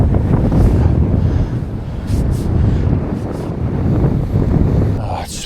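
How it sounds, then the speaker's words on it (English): Strong wind buffets the microphone beside the River Tay, a continuous loud roar of gusts rushing upstream with watery rumble underneath, steady throughout without any voices. "The wind is bellowing upstream now."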